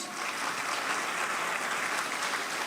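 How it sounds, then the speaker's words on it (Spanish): A church congregation gives loud, sustained applause during a Spanish-language sermon; the dense clapping holds steady and close throughout, with no voice over it. "Dale un fuerte aplauso al Señor Jesús."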